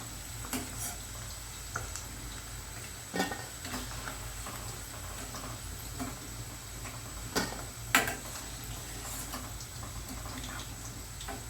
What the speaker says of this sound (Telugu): చికెన్ అంతా మీడియం ఫ్లేమ్లో ఇలా ఫ్రై చేసేసుకోవాలండి.